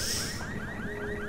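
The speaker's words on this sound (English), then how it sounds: "A tam je ten alarm na tom aute" Car alarm blaring in the zombie game Dying Light, a steady wailing siren with repeating rising sweeps held loud and continuous throughout, no voices over it.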